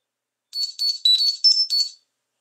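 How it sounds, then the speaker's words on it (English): A Samsung Galaxy phone's text-message notification tone plays as five quick bright chiming pulses, clear and alone against silence. "Alright, so that's the notification."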